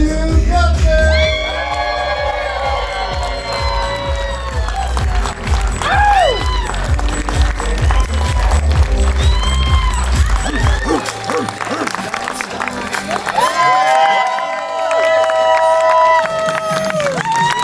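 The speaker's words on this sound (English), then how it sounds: "Let's make some noise for Mr. and Mrs. Matthew Butler." Wedding guests cheer, whoop and clap loudly and continuously at a reception as the newlyweds are introduced, with music playing underneath and occasional shouts rising above the noise.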